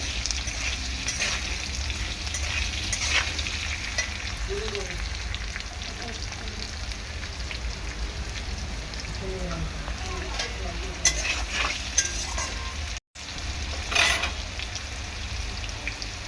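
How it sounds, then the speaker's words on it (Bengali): Vegetables sautéing with salt in a pan, a steady close sizzle with repeated scraping stirs and occasional clinks of the spatula, briefly interrupted by a short gap; no speech. "দেখো লবণ দিয়ে একটু ভালো করে কষিয়ে নেব"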